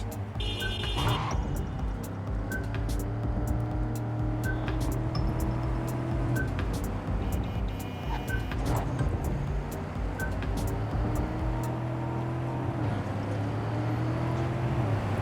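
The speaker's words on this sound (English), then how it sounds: "So much traffic." City traffic in the video game Cyberpunk 2077: a continuous engine rumble of cars with shifting motor drones, scattered sharp electronic blips and clicks, and a steady dense background at even loudness throughout.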